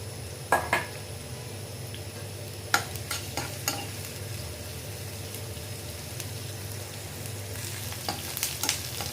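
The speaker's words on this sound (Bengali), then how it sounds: "হালকা ভাজা ভাজা করলাম।" Onions fry in oil in a pan, a soft steady sizzle punctuated by several sharp metallic clinks of a spatula stirring against the pan.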